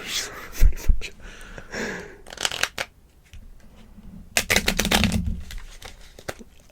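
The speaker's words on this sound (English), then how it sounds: "Show everyone your shuffle ability." Playing cards being riffled and shuffled in quick bursts, with a few crisp snaps and pauses between attempts, close by and fairly loud.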